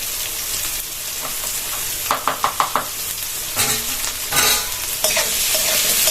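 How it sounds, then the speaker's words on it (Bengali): Potatoes and chopped onion fry together in hot oil, a loud close sizzle broken by a quick run of rhythmic spatula scrapes and knocks against the pan, with no one speaking. "আলু পেঁয়াজ দুটো একসঙ্গে ভাজা হবে"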